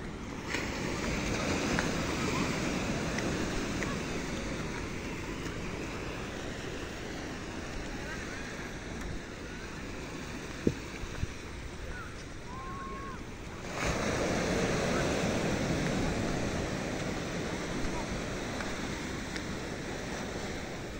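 Ocean surf washing over beach rocks at Carita beach, a continuous wash of waves mixed with wind buffeting the microphone, swelling louder about two-thirds of the way through.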